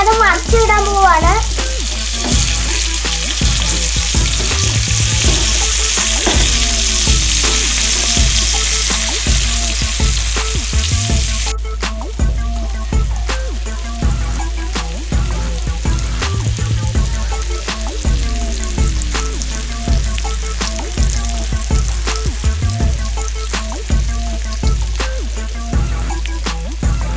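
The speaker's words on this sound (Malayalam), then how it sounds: "വീഡിയോയ്ക്ക് വേണ്ടി ഞാനിപ്പോൾ അതുപോലെ തന്നെ മസാല ഇട്ട് വറുക്കുവാണ്" Masala-coated kera fish sizzles in a pan after being turned over, a strong close hiss that eases partway through, with intermittent voices and tonal sounds over it.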